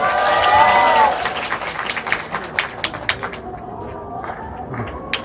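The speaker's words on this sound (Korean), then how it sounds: "박수로 환영해 주세요." A cinema audience claps to welcome the director and cast of the film Ansi Seong on stage. A loud crowd sound opens, then thinning, uneven claps continue as voices and chatter rise over them.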